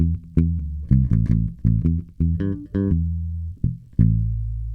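A bass guitar muted with a piece of cloth at the bridge plays a short line of plucked notes. Each note is thumpy and short with a quick decay, the pattern is uneven, and a final longer low note rings out.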